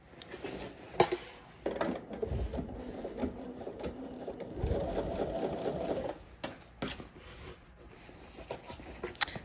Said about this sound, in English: And now we can come back and sew it in place.